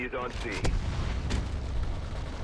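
Gunfire in the Crossfire X multiplayer first-person shooter, a dense rumble of shots and blasts at steady loudness, with a short burst of voice or game sound early on.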